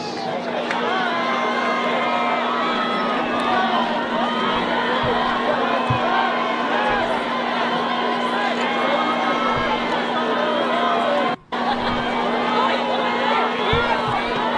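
A high school varsity football playoff crowd in Redondo Union versus Aquinas cheers a first down, a loud, dense roar of voices and whoops sustained throughout, briefly cutting out for an instant near the end.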